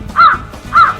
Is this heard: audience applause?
no